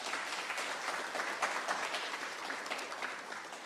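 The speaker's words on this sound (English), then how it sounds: "And your applause" Audience applause at a regional health authority research day: steady, dense clapping from a sizable crowd, fairly distant and even throughout, with no talk over it.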